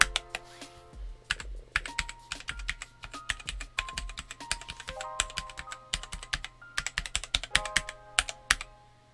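Keys clack on a Cherry Xtrfy K5 Compact RGB gaming keyboard, a close, crisp stream of individual presses with uneven pauses and short rapid bursts, no speech.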